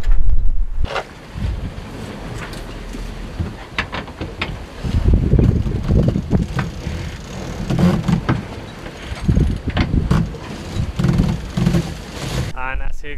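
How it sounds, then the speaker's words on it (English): Strong wind buffets a sailboat underway in open water near shallow islands, with heavy gusty rushing and microphone wind noise in surges, and a person talking over it. "And as you can see, the wind is picking up as well."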